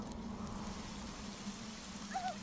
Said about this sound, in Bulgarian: Неволно пропуснаха дъжда, насрочен за миналата седмица, затова този порой трябва да го замести.